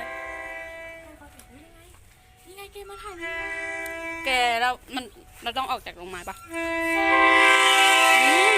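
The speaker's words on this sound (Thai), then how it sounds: "ว้าวรถไฟกำลังจะมาแล้วนะคะทุกคนตื่นเต้น" A train rumbles in with a horn sounding and a swelling roar near the end, while people chatter excitedly over it.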